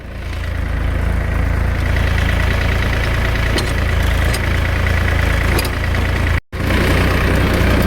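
A tractor engine labours loud and steady while towing an oversized four-wheel trailer up a small rise, a continuous heavy diesel drone with a brief dropout near the end.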